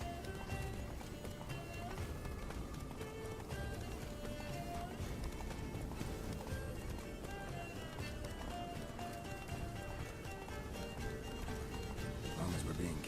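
Roach the horse gallops in The Witcher 3: Blood and Wine, a steady clip-clop of hooves running continuously under game music and a dense mix, with voices speaking over it.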